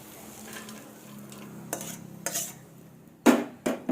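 Fried vegetables meant for mung dal with hilsa fish head are stirred in a pan, giving a soft sizzle under a series of sharp scraping and clattering strokes that grow louder toward the end, with no talking.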